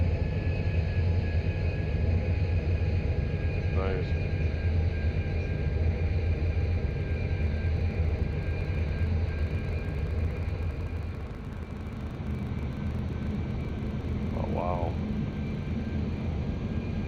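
Airbus A350 airliner passing overhead in the X-Plane 11 flight simulator, a steady broad engine roar holding throughout, with faint brief tonal blips and slight dip in level partway through.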